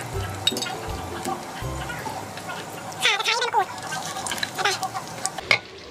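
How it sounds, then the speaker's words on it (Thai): Lemongrass, kaffir lime leaves and lime frying in hot oil, a soft sizzle and bubbling with stirring clatter, while someone talks over much of it. "ตะไคร้ใบมะกรูดมะนาวเราจะเอาทุกอย่างไปทอด"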